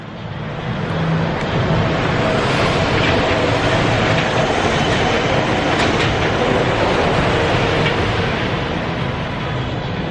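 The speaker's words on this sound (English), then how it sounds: "Sorry, can't ever miss a monorail when it passes by." An EPCOT monorail passing close by at a theme park, a loud, steady rolling rumble with faint clickety-clack that fills the whole stretch without fading.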